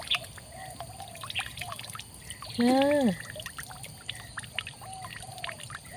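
Murky water being rinsed and poured out of a bamboo trap outdoors, soft trickling and splashing with a brief louder gush midway, and birds chirping in the background.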